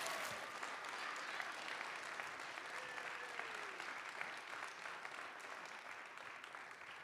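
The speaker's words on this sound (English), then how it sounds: "It's okay to clap again for him." Sustained applause from an audience at a city council meeting, steady and fairly loud throughout with a broad crowd wash and no break.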